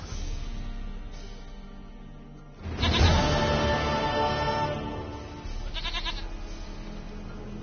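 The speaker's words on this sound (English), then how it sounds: "Goat of mine, dearest, sweetest goat." Goat bleating in the video game The Witcher 3: one loud, wavering bleat, then a shorter second one a few seconds later, both over a steady bed of game ambience.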